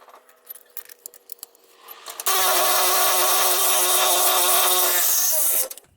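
A steady, loud rasping metallic hiss runs for about three seconds after some light clinks and handling: a pre-greased bolt pushed through the rear shock mount of a Ford F250 Super Duty truck during shock replacement.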